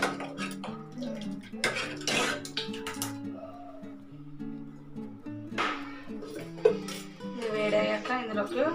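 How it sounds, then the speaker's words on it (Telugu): A small pan is set down and handled for tempering dal, with scattered metallic clinks and clatters of cookware close by, interspersed with quieter gaps and faint background voices. "తాలింపు కోసం పక్కన చిన్న మూకుడు అయితే పెట్టేసుకుంటున్నా."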